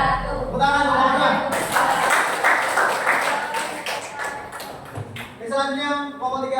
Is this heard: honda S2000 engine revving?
no